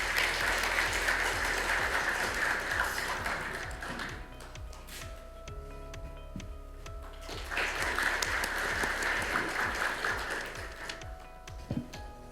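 Audience applause at the opening ceremony of the Korean Association of International Studies 2024 summer conference, welcoming the society president to the ballroom podium; sustained broadband clapping rises in two waves with a quieter lull between, filling the hall.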